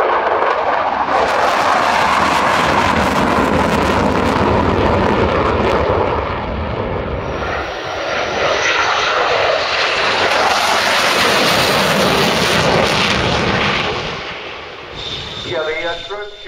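A military jet roars past at an air show at the Royal International Air Tattoo 2014. The engine noise is loud, close and rumbling, swells and holds for most of the clip, then fades in the last seconds.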